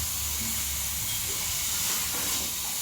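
Cumin seeds dropped into hot cooking oil sizzle with a steady, loud broadband hiss that fills the whole stretch without letup, close by and with no talking over it.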